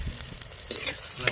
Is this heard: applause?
no